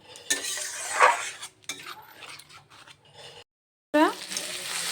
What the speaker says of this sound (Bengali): এবার ভালো করে পাঁচ থেকে দশ মিনিট আমি কষিয়ে নেবো